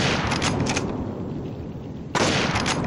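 Sniper gunfire in a video game comes as loud, dense bursts of shots at the start and again near the end, with a muffled lull between them.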